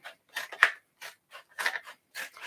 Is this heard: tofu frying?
no